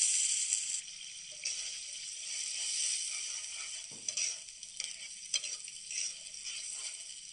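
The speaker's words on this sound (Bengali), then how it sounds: "মশলা কষানো হয়ে গেছে, এবার মশলা বাটার জলটা দিয়ে দিলাম" Spice paste water poured into frying masala, a steady bright hiss and sizzle with a splash and a few stirring scrapes, close and moderately loud.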